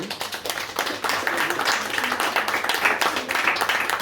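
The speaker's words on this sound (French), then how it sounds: "Je vous demande de les applaudir." A crowd applauds steadily, dense clapping filling the room for several seconds without pause at a literary conference.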